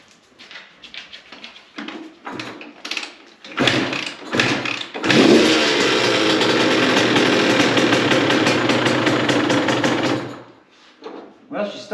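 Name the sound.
2002 CR125 motorcycle engine starting and running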